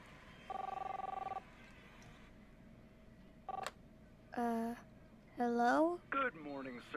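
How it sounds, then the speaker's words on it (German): Telephone ringing in the video game Captain Spirit, a short burst of buzzy electronic ring early on and another brief ring later, with a voice talking over the second half. "Wo ist denn das Telefon?"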